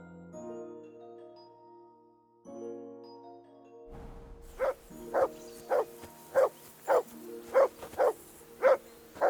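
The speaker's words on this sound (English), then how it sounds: "That barking was a pain in the ass." A dog in Kingdom Come: Deliverance II barks in a steady, evenly spaced series of about ten loud barks, following a quiet musical stretch.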